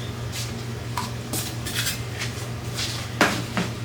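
Chopped peppers are moved into a small bowl with a scatter of light clinks and taps of utensil against dishware, heard close over a steady low background hum.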